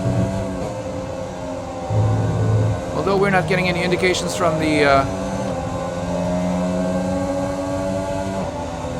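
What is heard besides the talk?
F1 car engine running at Silverstone, from video game F1 2020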